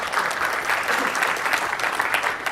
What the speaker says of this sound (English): you can clap more